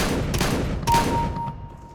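Rapid bursts of gunfire from Counter-Strike: Global Offensive, two or three sharp loud volleys in quick succession with a thin ringing tone trailing after, no talking over it.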